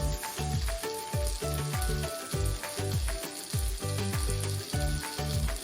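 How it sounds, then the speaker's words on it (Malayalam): Turmeric, coriander, chili and garam masala powders sizzle in a hot pan while a spoon scrapes and stirs in a steady, repeating rhythm, close and fairly quiet, with no talking. "ഇത്രയും കൂടിയിട്ട് നന്നായിട്ട് വഴറ്റിയെടുക്കാം"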